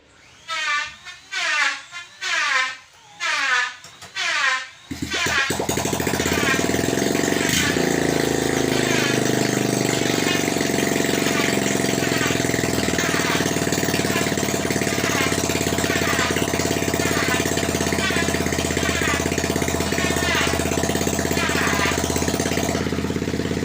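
Honda XRM 125 motorcycle engine, freshly overhauled with a new connecting rod, cranked in several short bursts before firing up and settling into a loud, steady open idle with no exhaust fitted, heard close up.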